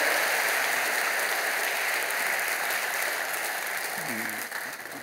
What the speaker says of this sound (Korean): 여러분 그 박수로 환영하시죠